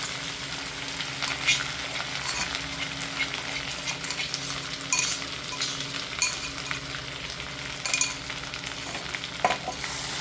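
Ground green chili, cumin, mustard and ginger paste roast in ghee for a kadhi tadka, giving a soft, even sizzle up close with occasional light stirring clicks and scrapes.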